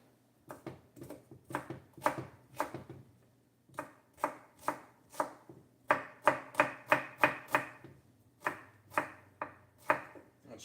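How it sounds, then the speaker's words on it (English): A knife chops an onion on a cutting board in a home kitchen, a steady run of crisp, close knocks in uneven bursts with brief pauses between them and no talk. "Chopping is a nice sound"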